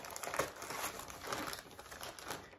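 Soft crinkling and snipping as scissors work through packaging, faint and irregular, with no talking.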